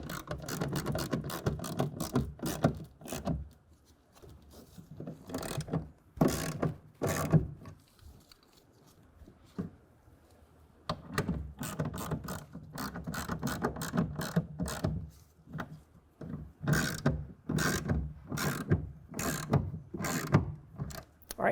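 A 1/2-inch ratchet tightens a clamp on a one-piece ARE LS3 tonneau cover bracket, giving repeated bursts of quick, close clicking separated by short pauses.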